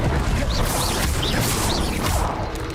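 The Confringo blasting curse cast in Hogwarts Legacy, a loud continuous rush of magical blasts and crashes with whooshing streaks, dense and close throughout.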